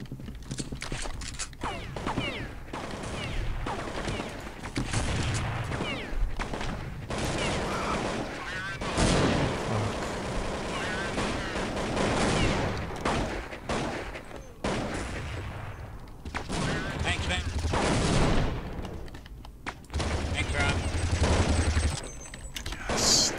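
Gunfire from Counter-Strike 1.6 on the Dust2 map, with repeated dense bursts of shots running through the whole stretch, close and loud, mixed with speech.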